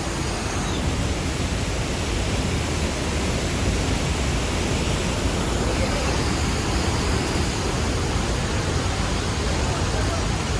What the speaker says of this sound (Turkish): Elevit Şelalesi.